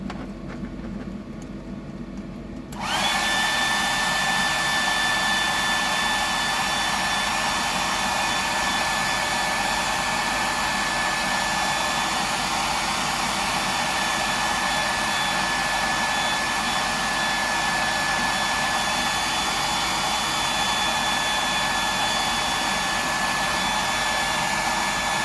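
Heat gun drying paint on a custom fishing lure switches on after a short quiet moment and then blows with a constant loud whine and rushing airflow, close and unbroken to the end.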